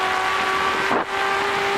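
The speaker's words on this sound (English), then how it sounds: "All right, we're in John French's car now" Race car engine heard from inside the car during the 1982 Bathurst 1000, a loud steady high drone with a brief dip in pitch as the driver changes gear.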